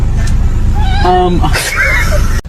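A pet cat meows in a short harmonic call, rising and falling, over a steady low engine-like hum, with a second fainter meow after it and a sharp click at the end.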